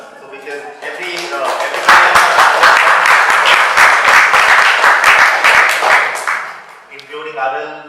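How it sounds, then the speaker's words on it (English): Audience at a winning minds programme event giving each other a big round of applause, loud, sustained clapping with distinct hand strikes, bracketed by talking before and after. "give a big round of applause for each other"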